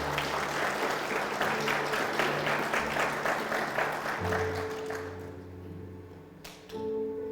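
A church congregation bursts into sustained applause during a Spanish-language sermon, a dense wash of clapping that fills most of the stretch before thinning and fading out, with a few held musical tones rising underneath near the end.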